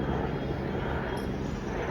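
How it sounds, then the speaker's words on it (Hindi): A helicopter flies overhead, giving a steady, loud broadband engine and rotor drone that fills the short stretch without a break. "ओह हेलीकॉप्टर, वाह हेलीकॉप्टर दिख गया गाइस, हेलीकॉप्टर दिख गया।"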